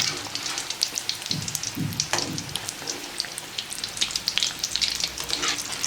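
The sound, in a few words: food frying in oil in a pan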